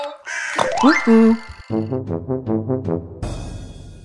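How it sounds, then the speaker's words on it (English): A cartoon crow caws in a kids' firefighter game, a series of loud rhythmic caws after a sliding whistle-like effect, ending in a burst of noise. "Oh, there's a crow!"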